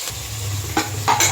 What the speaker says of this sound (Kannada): ಆನಿಯನ್ನೆಲ್ಲ ಸಾಫ್ಟ್ ಆಗೋವರೆಗೂ ಫ್ರೈ ಮಾಡ್ಕೊಬೇಕು